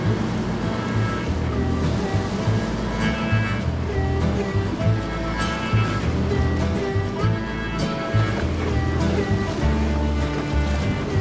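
A Fisheries and Oceans patrol boat on the sea, with a steady low engine rumble blended into continuous wash of waves and surf, loud and close throughout with no talk.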